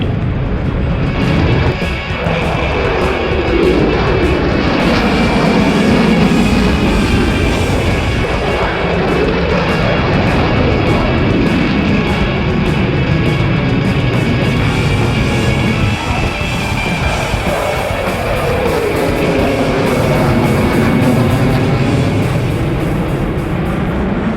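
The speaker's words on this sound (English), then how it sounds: "the F-22 was absolutely amazing. It's very agile in the air and can turn so quickly." An F-22 fighter jet flying at the Avalon Airshow, a loud, steady roaring jet noise that sweeps and shifts in pitch as it passes and turns, filling the whole stretch without pause.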